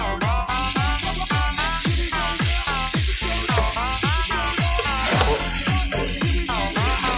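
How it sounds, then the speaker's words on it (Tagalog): Garlic, onion and tomato sautéing in a pan while being stirred, with a constant loud sizzle and a regular scraping rhythm of the stirring strokes. "Haluin muna po natin yung ating ginigisang bawang."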